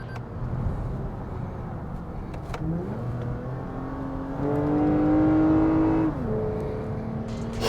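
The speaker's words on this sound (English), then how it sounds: "that V6 with the TRD tuned exhaust" A Toyota Avalon TRD V6 with its tuned exhaust accelerates, engine tone climbing through the revs, shifting and rising again in a steady, full-bodied drone heard from inside the car.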